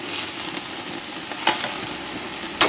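Onions and peppers sizzle steadily on a hot grill beside a flank steak, a loud continuous hiss with two brief crackling pops partway through.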